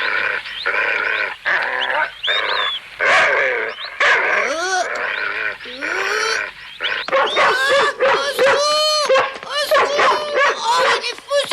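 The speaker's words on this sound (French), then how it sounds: "Oh, il est fou ce chien!" A dog barks, growls and yelps excitedly in rapid, uneven bursts, close and loud, with a frantic flurry of yaps near the end.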